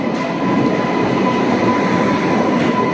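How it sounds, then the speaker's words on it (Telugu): The Konark Express, hauled by a WAP-7 electric locomotive, arriving at a station platform with a loud, steady rumble of rolling wheels and carriages close by. "10వ నెంబర్ ప్లాట్ఫామ్లోకి వస్తుంది Konark express. Train number 11020 వ్యాప్ 7 locomotive"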